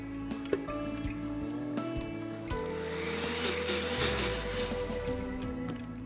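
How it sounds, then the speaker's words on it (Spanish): A blender whirs through a batch of hummus seasoned with pepper, its motor starting after a few faint knocks and settling into a steady, close, continuous drone that runs to the end. "Y luego volvemos a licuar."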